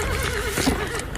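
A horse neighing on an outdoor stunt set, one loud, close, wavering whinny that runs across most of the moment over a busy background.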